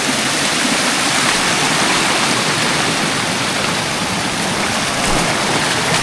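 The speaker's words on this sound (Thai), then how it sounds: "โอ้น้ำสองสายเนาะไหลตกที่นี่" A waterfall where two streams of water pour down makes a loud, steady, close roar of rushing water that fills the whole scene evenly, with no voices over it.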